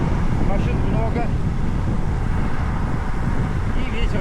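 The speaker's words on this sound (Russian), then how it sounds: "и ветер все никак не может успокоиться" Steady, loud wind roars across the microphone beside a busy road, with passing cars blending into the rush throughout.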